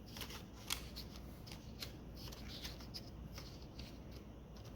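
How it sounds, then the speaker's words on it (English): Sheet of paper slid into a Swingline 3-hole punch with 20-sheet capacity, a faint, close papery rustling and shuffling lasting a few seconds with one slightly sharper rustle, no talking. "I have a piece of paper here, and I'm just going to put inside this 3-hole punch."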